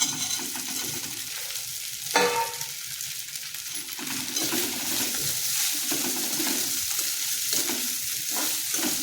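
Cut pieces of idli tossed into a hot frying pan give a steady, moderate sizzle with scraping stir strokes and a sharp metallic clang early on, with no talk.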